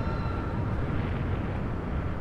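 A sustained, loud rumbling blast from a Final Fantasy 7 explosion, a dense roar that holds steady for a couple of seconds with no talk over it.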